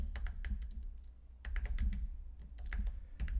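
Fingers tap on a computer keyboard in quick bursts of clicky keystrokes, a short pause separating the groups, close and fairly quiet.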